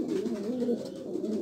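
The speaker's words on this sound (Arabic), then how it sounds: "راه حمام ديالنا حنا، حمام عادي" Ordinary domestic pigeons cooing softly, a steady low warbling burble that continues without a break, close by with no talk over it.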